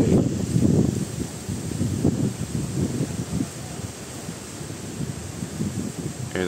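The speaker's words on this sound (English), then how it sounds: "very windy today, very, very windy." Strong gusting wind outdoors around a mast carrying a cubical quad antenna about 12 meters up, a steady loud roar with surges and buffeting against the microphone, no talking.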